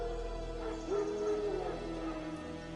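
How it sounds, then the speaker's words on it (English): Wild dogs in the video game Witcher 3 give a short whimpering yelp with a rising-falling whine, faint and set against a low ambient game backdrop. "No. Wild dogs."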